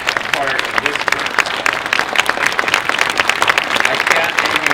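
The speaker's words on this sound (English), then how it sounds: "I want to give you applause" An audience at a Main Street USA window dedication ceremony applauds, a sustained roar of dense clapping lasting several seconds with crowd voices mixed into it.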